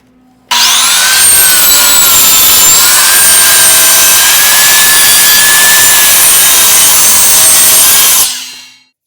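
A saw cuts a wooden upright for speaker and monitor stands, set against a repetitive cutting jig, one loud continuous whining cut that starts abruptly, holds steady for about eight seconds, then spins down.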